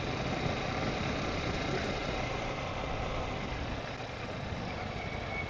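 A Yamaha R15M motorcycle engine runs under way as the rider moves up through the gears, a steady, loud, dense drone with wind rush and no clear breaks.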